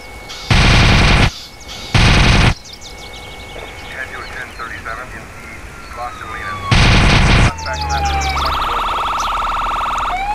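A minigun in GTA San Andreas fires in three short, loud, dense bursts, close and sharp, between quieter game sounds and a rising electronic tone near the end.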